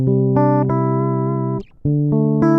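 A dry, unprocessed electric guitar DI signal plays sustained clean notes, cut briefly by a short gap before the chords resume, heard alone and clearly up front.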